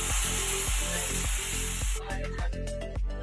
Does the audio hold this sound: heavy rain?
no